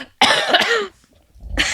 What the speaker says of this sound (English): We're both coughing. With the stupid coughs.